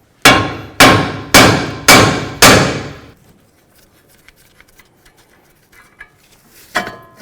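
Five loud, ringing hammer strikes on the steering knuckle of a 2006-12 Ford Fusion to separate the upper ball joint, evenly spaced and close, followed by quiet small clinks and a final knock.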